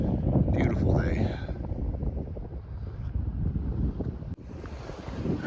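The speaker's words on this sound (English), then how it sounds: "A little bit of wind." Wind gusts buffet the microphone outdoors on a trail near a parking lot, a steady low rumble through the whole stretch with a brief dip partway.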